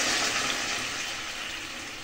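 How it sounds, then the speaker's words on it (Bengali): Hot water is poured into a thin, light fish curry cooking in a pot, a steady rushing splash that is close and continuous and fades slightly over its two seconds. "গরম জলটা আমি এর মধ্যে দিয়ে দিলাম।"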